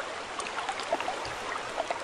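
Steady broadband rushing of flowing river water in Farming Simulator 19, with faint scattered higher clicks and splashes over the continuous wash.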